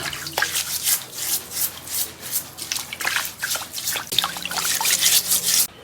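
Singed pork belly rinsed under running water in a home kitchen, a steady close splashing trickle with rubbing and dripping as the meat is turned and scrubbed.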